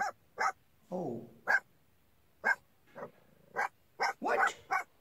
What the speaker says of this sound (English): The dog's in the car and barking.